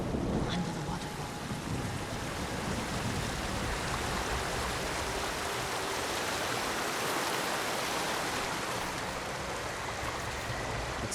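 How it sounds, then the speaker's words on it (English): Waterfall in Ghost of Tsushima, a steady full roar of falling water that fills the scene evenly from start to finish with no break. "Under the waterfall."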